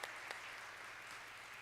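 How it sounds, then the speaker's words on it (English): Faint, steady applause rises from people in the chamber at a Providence city council meeting, a short stretch of distant clapping with no voices over it. "I think they deserve a big round of applause."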